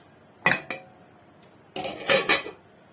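Food gets flipped in a metal pan with a couple of sharp clanks, followed by a lid set down over it with a cluster of rattling metallic clatters, close by in a quiet kitchen.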